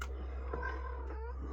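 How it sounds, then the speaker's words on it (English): A pet cat meows in a drawn-out, wavering call heard somewhat in the background of a quiet room, with a steady low electrical hum underneath. "that is my cat in the background meowing at me"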